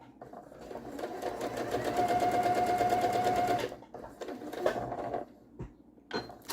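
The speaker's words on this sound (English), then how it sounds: "And we're going to sew it down, keeping it lined up and held together." Sewing machine with a quarter-inch foot stitching a quilt strip; a steady, close mechanical hum runs for about three seconds, then short stop-start bursts follow as the fabric is adjusted.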